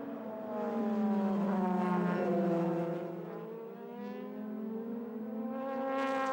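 Onboard engine sound from a DTM race car at Brno in 2005: a loud, continuous high-revving note whose pitch sweeps up and down through gear changes, steady and close throughout.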